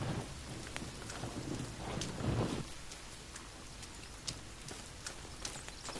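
Rain falls steadily in the survival video game The Forest, with a low rumble of thunder swelling and fading early on, then light patter continuing under sharp ticks.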